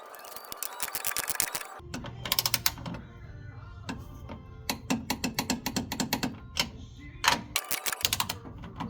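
A hand ratchet works on the coilover mount bolts of a 1994–2004 Mustang during a BC Racing coilover install, giving bursts of rapid close clicking and ratcheting broken by short pauses, with no talk.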